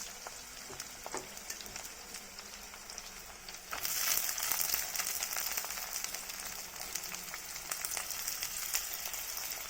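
Green chillies and onions go into hot oil in a pan for a fish curry, the sizzle jumping louder partway through and then crackling on steadily up close, with no one talking.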